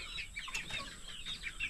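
A mother hen gives a run of quick, faint clucks and chirpy calls at a farm, with light rustling and no talk.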